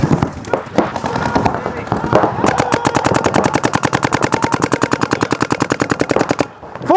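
Rapid, rhythmic bursts of paintball markers firing at a tournament event, a loud, fast string of shots close to the microphone lasting several seconds, with a player talking over the start.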